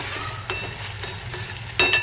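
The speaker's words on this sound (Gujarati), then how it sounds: "ટમેટા અને લસણ પણ નાખી દીધા છે અને હવે મસ્ત એને થોડી વાર ફ્રાય થવા દઈશું" Tomatoes and garlic fry in a pan with a steady low sizzle and faint scraping stirs, ending in a couple of louder spatters.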